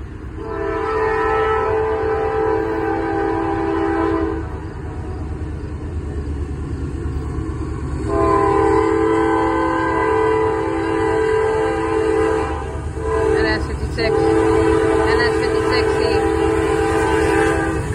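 A Norfolk Southern freight train in Avon Lake, Ohio picks up speed, its diesel engines droning heavily and loudly nearby while the horn sounds in long sustained blasts with short breaks between them.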